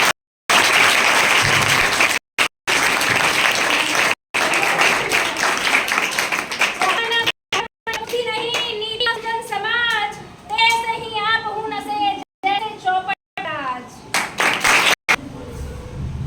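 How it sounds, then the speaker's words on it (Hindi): Audience applause after a staged performance of the Hindi play Andher Nagri Chaupat Raja, a dense burst of clapping that cuts in and out, then gives way to children singing in chorus. "एक जोरदार ताली से सबों का स्वागत करूंगा"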